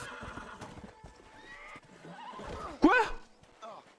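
A horse in the video game Red Dead Redemption lets out a loud, sharp whinny after a stretch of hoof clip-clop and game sounds, with someone talking over the scene.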